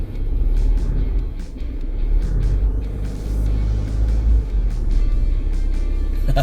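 A vehicle on BFGoodrich KO3 all-terrain tires crawls slowly over loose dirt in two-wheel drive, a steady low engine rumble with crunching gravel and small knocks throughout.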